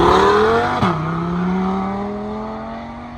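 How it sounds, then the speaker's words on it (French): An Audi RS3 engine warming up, loud and close throughout: a steady rising rev, a sharp blip and drop near the start, then a strong, even idle-like drone that slowly eases off. "Petit RS3 qui se chauffe."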